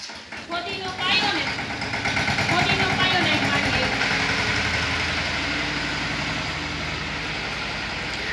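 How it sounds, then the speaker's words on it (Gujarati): A tractor engine rumbles close by, rising as it pulls up and then settling into a steady, loud idle for several seconds, with a person talking over it. "જો ટ્રેક્ટર આવ્યું"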